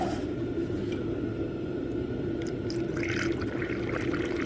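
Water pours steadily from a bottle into a car radiator, a continuous close gurgling splash that holds at an even level throughout with a few faint clinks.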